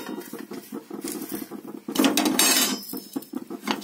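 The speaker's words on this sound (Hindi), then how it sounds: "हल्के हाथ से हिला रही हूँ।" Ajwain seeds with roasted cumin are stirred gently in a pan over a low gas flame, a close, continuous patter of scraping and light metallic clinks that swells briefly midway.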